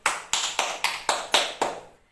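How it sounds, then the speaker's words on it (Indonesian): Seven slow, evenly spaced hand claps ring out in a classroom, each sharp and followed by a short room echo that fades. "beri tepuk tangan untuk Agil perwakilan dari kelompok 1"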